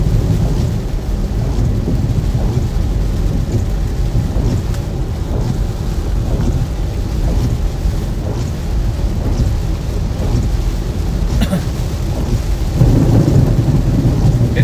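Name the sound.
thunder and rain in a Florida severe thunderstorm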